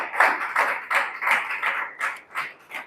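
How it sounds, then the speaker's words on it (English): Audience at a business talk clapping in a slow, rhythmic pattern, about eight even claps spaced roughly a third of a second apart, moderately close and fairly quiet. "I think we can clap there. Let's clap, please."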